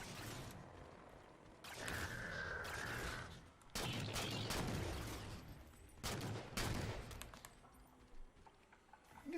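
DMR rifle fire in Halo 4 comes in loud bursts of sharp shots separated by short pauses, with bursts and quieter gaps alternating across the stretch.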